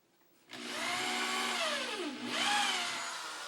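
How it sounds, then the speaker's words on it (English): Power drill with a 1/8 inch bit boring a pilot hole an inch from the edge of a board for a homemade conveyor dryer; a steady high whine whose pitch drops under load, then rises again, close and continuous. "take our 1/8" drill bit and come about 1 inch away from the edge in the center and put a pilot hole"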